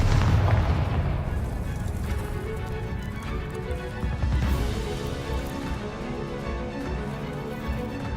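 A Confringo blasting spell explodes in the Hogwarts Legacy video game, a loud, dense rumbling blast at the start that settles into a sustained booming wash of game sound, with clattering hoof-like thuds throughout.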